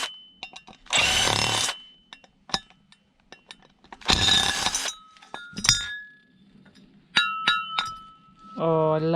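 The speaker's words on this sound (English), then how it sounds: "Don't you just love the sound of aluminium?" Cast aluminium parts from a torn-down e-waste unit clink and clatter together in a few sharp, ringing metallic hits between bursts of handling noise, close up.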